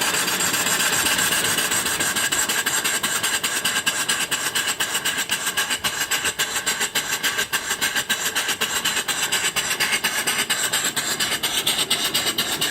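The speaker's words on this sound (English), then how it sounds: "Beautiful running engine" A mill steam engine runs steadily at close range, giving a fast, even mechanical chuffing and clatter that repeats without a break, loud and unaccompanied by talk.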